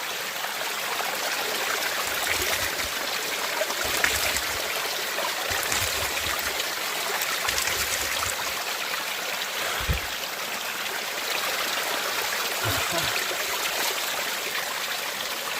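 A waterfall and stream pour steadily in a natural outdoor setting, a loud, continuous broadband rush with occasional low gurgles and splashes beneath it, no voices.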